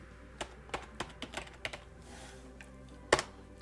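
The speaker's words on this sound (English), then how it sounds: "I can type directly," Keys tapped on a computer keyboard connected to a Remix Mini Android desktop, about ten separate clicks spread irregularly with short pauses, close and fairly quiet, plus one sharper, louder keystroke near the end.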